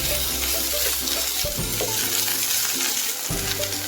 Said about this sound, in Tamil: ஆட் பண்ணிவிட்டு ஒரு டைம் கிளறி விட்டுக்கலாம்.